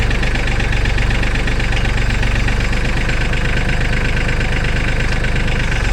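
A loud diesel engine on a Mahindra Max 26 XL tractor loader runs steadily close by, a rough rhythmic chugging that holds constant throughout.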